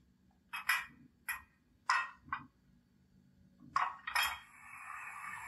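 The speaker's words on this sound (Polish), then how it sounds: "Dźwięk sprzęgania." A few short metallic clinks in separate bursts, then a longer hissing release that carries on to the end, the coupling sound of a BR42 model locomotive's ESU LokSound 5.0 decoder. There is no talking.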